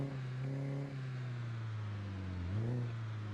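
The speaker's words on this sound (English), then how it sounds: "So hopefully they pay attention more to how loud my car is." A car engine in the zombie survival game Project Zomboid revs and holds, its pitch stepping down then climbing again in a short burst, steady and fairly close with no talk over it.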